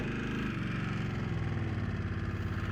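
A 2021 Harley-Davidson Sportster S with the Revolution Max 1250T V-twin engine settles into a loud, close, throbbing idle, its low pulsing rumble steady and rhythmic throughout.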